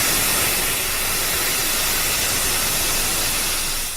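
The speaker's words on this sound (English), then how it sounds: "We're taken to the steam fields, the actual source of geothermal power." Geothermal steam roars in a loud, continuous broadband hiss at a power plant's steam fields, steady and unbroken throughout.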